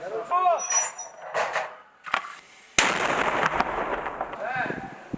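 Airborne troops' mortar fires once with a sudden loud blast followed by rumbling outdoor noise, preceded by faint voices and clanks in a field setting.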